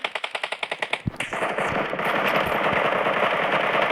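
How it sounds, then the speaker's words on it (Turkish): PUBG Mobile gunfire: a rapid burst of about a dozen evenly spaced shots, then a sharp louder blast that gives way to a dense, steady roar of continuous fire, close and loud with no voices. "Biri pompalıyla mı sıkıyor yoksa tabanca mı o?"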